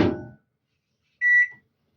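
A microwave oven heating potatoes and carrots gives a brief low rumble that fades out, then after a pause a single steady electronic beep rings out clearly, close by.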